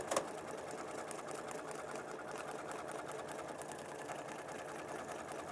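An Elna 782 sewing machine stitches fabric along a curve with a steady, continuous mechanical whirr that stays even and close throughout, with no talking.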